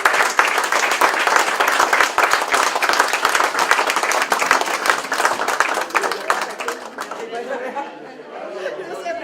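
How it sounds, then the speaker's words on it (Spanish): An audience at a tribute ceremony applauds steadily for several seconds, dense clapping that tapers off toward the end, with some crowd chatter underneath. "propongo terminar este acto con un aplauso a Pater."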